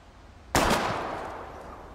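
A single sharp gunshot at bottles in the game Life Is Strange, one loud crack with a trailing echo that fades over a second and a half.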